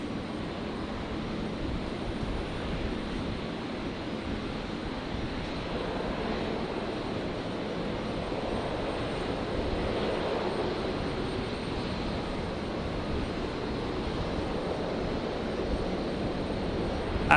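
An aircraft takes off from runway 19 left at Brisbane Airport, a steady broad engine roar heard from a distance that swells gently and holds without pause.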